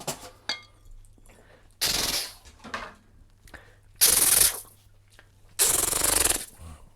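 A voice imitates machine gun fire in three bursts of rapid, harsh, noisy rattling, each lasting about half a second to a second, with quieter breaths and mouth sounds between them.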